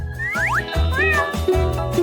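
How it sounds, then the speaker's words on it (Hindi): A cat meows repeatedly on a television show about cats. The rising and falling meows are fairly loud, backed by a pulsing low rhythmic sound. "ओह, बिल्लियों के बारे में एक शो।"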